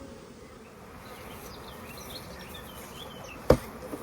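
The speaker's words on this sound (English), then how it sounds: "The amount of bees in this box," Honey bees in a hive box give off a faint, steady hum and scattered buzzing. A sharp knock lands near the end.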